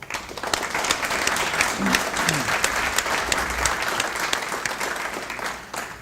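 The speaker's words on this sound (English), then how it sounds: "Please give yourself a round of applause." An awards ceremony audience, at a technical school's distinguished alumni awards, breaks into sustained applause, dense clapping from a large crowd filling the whole stretch.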